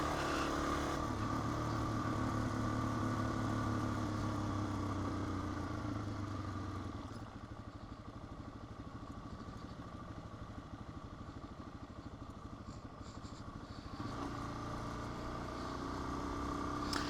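Off-road motorcycle riding along a dusty dirt road, its engine droning steadily and close throughout, easing to a lower, quieter note in the middle before building again.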